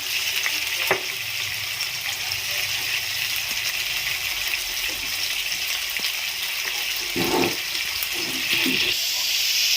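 Water being poured into a cooking pot of chicken with coconut milk and shrimp paste, a steady close hissing gush with brief clinks and stirring sounds, no talking.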